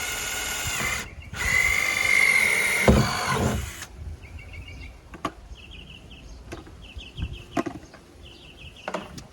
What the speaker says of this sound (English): I'm going to use the drill to make a hole to start cutting the barrel.